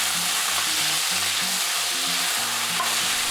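Beef pieces stir-frying in a hot pan for a bean-sprout dish, a steady loud sizzle and crackle that runs unbroken throughout, close up and alone, with no voices.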